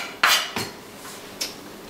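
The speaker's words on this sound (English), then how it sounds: "of course we need to cut off the stems" A knife chops through a bundle of green beans on a cutting board, giving three sharp, close knocks with short pauses between them, and no talking.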